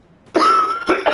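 A single short, close cough from a sick person, a sharp burst followed by a smaller rasping catch.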